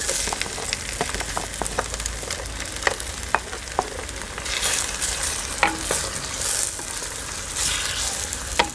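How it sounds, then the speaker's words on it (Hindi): Potatoes and spring onions stir-fried for a village-style sabzi, a continuous close sizzle with repeated clicks and scrapes of a spatula, and brief louder bursts of spitting oil, no voices. "तो अभी आलू जो है इनको भी हम थोड़ा सा भूनेंगे"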